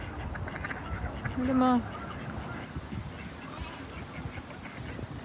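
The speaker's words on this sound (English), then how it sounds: "It's just a duck." By clear spring water in Canada, a duck gives a single loud, nasal quack close by, with a person speaking briefly against a steady outdoor background.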